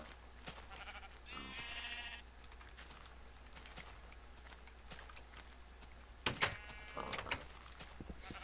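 Sheep bleat in Minecraft, a few separate calls standing out against a quiet, steady low hum, one early and a pair near the end.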